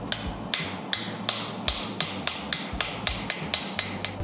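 Steady, evenly spaced hammer blows ring out on a hot, orange-glowing pan handle set in a fullering tool at a forge, about ten sharp metallic strikes close by with no talking.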